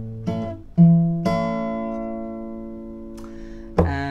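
An acoustic guitar plays a song, alternating low bass notes with plucked chords; a few separate attacks ring out clearly and sustain, close and alone.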